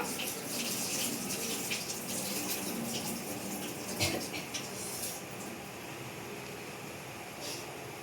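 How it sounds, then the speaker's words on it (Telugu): Water draining from soaked rice being prepared for bagara rice, poured off by hand: a continuous, fairly faint gushing flow with a brief splash partway through. "ఇప్పుడు మనం నానబెట్టిన రైస్ వాటర్ తీసేస్తున్నాను"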